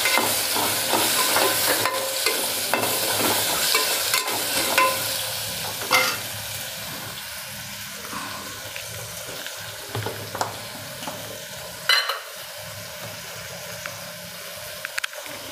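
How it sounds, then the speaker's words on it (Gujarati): Guava and potato pieces are stir-fried in oil, with a bright sizzle broken by repeated scraping and stirring strokes of a spoon in the pan, close up and loud, fading slightly toward the end. "હવે આપણે જમરૂખ અને બટેકા નાખી દઈશું. પહેલાં તેલમાં ફેરવી લઈશું."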